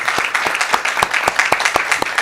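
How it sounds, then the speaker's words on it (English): An audience at a school board meeting applauds the special education team, sustained clapping of moderate size and fairly even rhythm heard from within the room. "Let's give them a round of applause."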